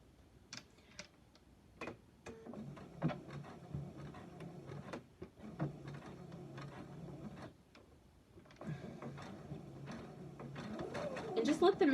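A domestic sewing machine top stitching quilted fabric slippers from the heel seam, running in bursts of rapid mechanical ticking with pauses, while someone talks over it at close range.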